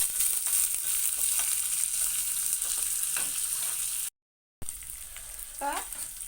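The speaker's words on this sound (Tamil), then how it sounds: "நல்லா வதக்கி விட்டுக்கலாம்." Chopped onions sautéing in a pan for a Tamil buttermilk curry, with a steady loud sizzle of frying and occasional stirring scrapes. There is a brief gap of silence and a little background voice.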